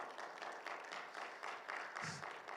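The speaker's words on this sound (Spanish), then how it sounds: "Denle un fuerte aplauso al Señor, por favor." Church congregation applauding, a dense, steady wash of many hands clapping at a moderate distance, heard alone for a couple of seconds.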